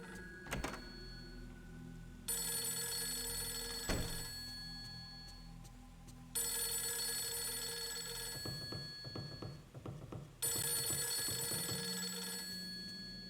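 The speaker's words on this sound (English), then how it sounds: "And a phone be ringing." A telephone rings in bursts of bright electronic trilling, three ring cycles with pauses between them, over low eerie ambience and occasional thuds, in the horror video game Fatal Frame 3.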